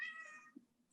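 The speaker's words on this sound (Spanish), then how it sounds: "Ay, perdón, es mi gatita." A small female cat gives one short, close meow that fades quickly, followed by near silence, with no talking.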